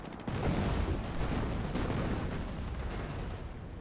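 Artillery fire in the Company of Heroes strategy game rumbles as dense, overlapping booms and crackling gunfire, a continuous loud barrage of battle noise.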